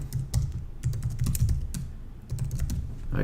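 Website address typed on a computer keyboard, quick close clatter of keys in uneven bursts with brief pauses, fairly loud and without talk.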